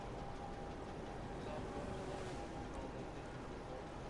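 A boat moves across open water in GTA Online, giving a steady low engine rumble with wash and wind noise at an even, constant level and no break.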